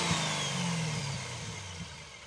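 Supercharged 6.2-litre Camaro V8 revving at a distance, a moderately faint rising and falling engine note with a whine, heard briefly without talk.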